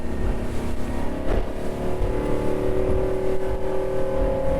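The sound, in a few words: boat engine accelerating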